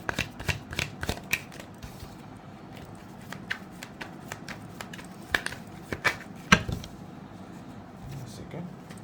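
Tarot cards shuffled by hand in quick riffling bursts and sharp flicks, close and crisp, with quieter handling between bursts.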